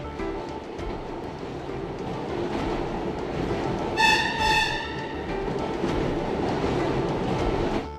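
A New York subway train runs underground with a heavy, continuous rumble and clatter. Midway through, a short, bright, high-pitched squeal or whine rises above the roar and then fades back into the steady noise.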